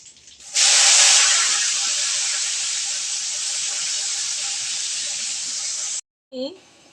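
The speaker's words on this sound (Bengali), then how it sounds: "এবার এই তেলের মাঝে আমি পেঁয়াজ কুচি দিয়ে দেব" Chopped onions hit hot oil in a pan, bursting into a loud, dense hiss that holds steady for about five seconds before cutting off, followed by a short voice-like sound.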